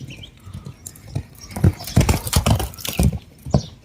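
A horse runs with quick, loud, irregular hoofbeats close by, the thuds clustering densely through the middle.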